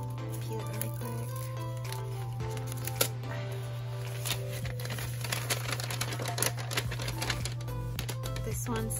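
A thin sheet of paper is peeled away in quick crinkly tearing and crackling bursts, close up, over a steady low hum.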